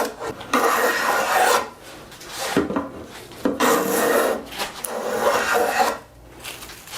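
A hand plane takes thick shavings off rough lumber being jointed by hand, in long rasping strokes of about a second each with brief pauses between them, close and moderately loud, no voices.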